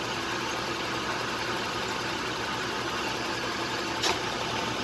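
A 1966 Frigidaire Rollermatic washing machine spinning a load of towels, giving a steady, dense mechanical hum and rumble that holds fairly constant throughout, with one brief sharper sound near the end.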